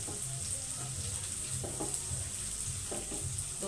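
Onions fry in a pan with a continuous soft sizzle, punctuated by a few stirring scrapes and clinks, fairly quiet and close, with no talking.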